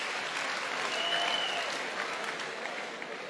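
Church congregation clapping during a worship service, a soft, dense, even patter of many hands heard from a distance for a few seconds.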